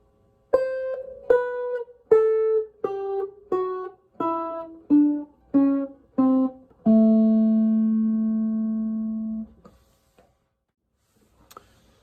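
Electric guitar plays a Chicago blues passage of about ten plucked notes in a steady descending run, clean and close, ending on a long ringing sustained note that fades to silence.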